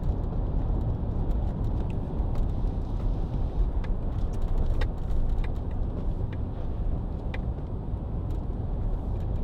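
Land Rover Range Rover Sport 3.0 SD V6 HSE 4x4 driving along a flooded road, a steady broad rumble of road and water noise with faint ticks on top, close and continuous, no voices.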